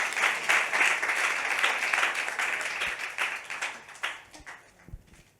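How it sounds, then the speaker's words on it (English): An audience at a panel on financing low-carbon transitions breaks into applause, a dense wash of clapping that holds steady and then thins out and fades toward the end, with no speech over it. "Put your hands together. Thunderous applause,"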